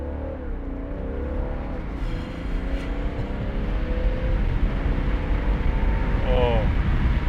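A BMW 640d with an 8-speed ZF automatic pulls hard from inside the cabin, a low steady engine drone climbing in pitch with smooth quick gear changes, heard under a voice talking.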